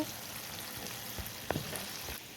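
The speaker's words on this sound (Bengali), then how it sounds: "দেখতে পাচ্ছেন আমি সাদা তেল নিয়েছি, রান্নার সয়াবিন তেল। দেখতে পাচ্ছেন ভাজি হচ্ছে।" Masala-coated fish frying in white soybean cooking oil, a soft steady sizzle with faint crackles and a couple of small pops, close but quiet, with no talking.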